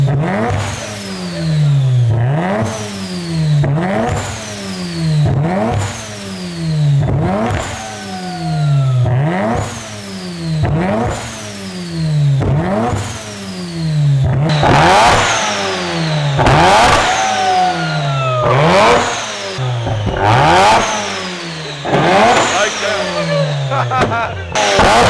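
A turbocharged car engine revs repeatedly in bursts, each rise and fall of the engine note following the next in a steady cycle, loud and close, with faint people's voices around it.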